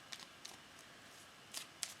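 Ganesha oracle cards are shuffled in a few faint, quick riffling bursts close by in a quiet room.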